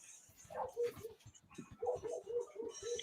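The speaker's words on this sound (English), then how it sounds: "Like the dog barking in the background." Faint dog barks and yips at a distance in an outdoor setting, repeated in short bursts across a few seconds.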